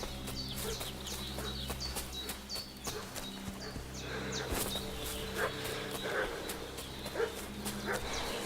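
A dog barks repeatedly in the video game Kingdom Come Deliverance 2, the barks moderately distant over hoof clip-clop, birdsong and a steady ambient hum.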